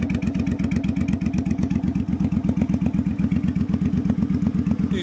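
A 2007 Suzuki Boulevard C50 800cc cruiser with Cobra aftermarket pipes runs steadily at idle, its low, even exhaust pulse loud and close, with faint mechanical clatter on top and no talk.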